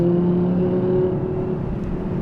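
Audi R8 RWS, the rear-wheel-drive R8, its engine running steadily close by with a sustained low droning hum and a slight rise in pitch, no voices over it.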